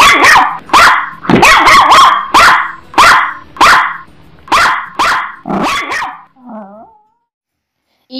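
A dog barks repeatedly in quick, loud bursts close by, about a dozen barks, followed by a brief whine and silence.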